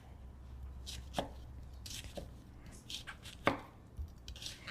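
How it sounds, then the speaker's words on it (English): An onion is chopped with a knife on a cutting board in a home kitchen: a steady run of close, crisp blade knocks with no talking. "I'm just gonna finish chopping up our onion here"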